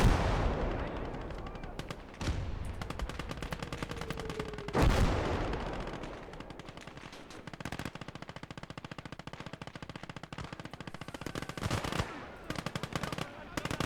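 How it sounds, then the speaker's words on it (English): Maxim machine gun fire rattles in Call To Arms: Gates Of Hell, long bursts of rapid shots with scattered rifle fire and explosions, loud and continuous across the battle. "You are going to have to protect them by taking the Maxim fire"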